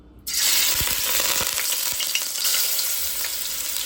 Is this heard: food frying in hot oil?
yes